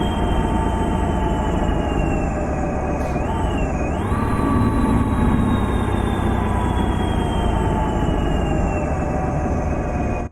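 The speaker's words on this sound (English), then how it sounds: "Cool, a plane zooming by." In American Truck Simulator, a steady roar of heavy engine noise from a truck with a Cat 3412 V12 engine, pitch dipping and swerving midway as an airplane passes over; no voices.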